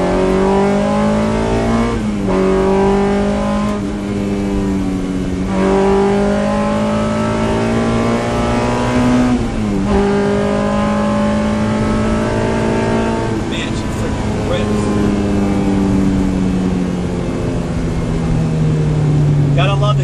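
An Acura Integra with a swapped Honda K24 engine pulls hard through the gears, its loud, close engine note rising and dropping with each shift as people talk over it inside the car.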